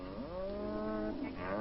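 Cattle give a single long, drawn-out moo that rises and falls, steady and moderately close with no other sounds.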